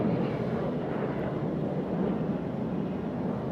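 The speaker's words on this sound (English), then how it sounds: "there you see his airplane departing on the left side." A racing jet airplane departs at the National Championship Air Races, a broad steady roar of engine noise with some wind buffeting, constant and moderately loud with no voices over it.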